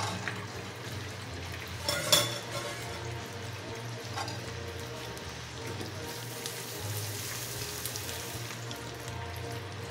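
Marinated pork belly sautéing in a pan gives a steady, close sizzle and frying hiss that runs for the whole stretch, with a few clinks of a utensil near the start and no voices.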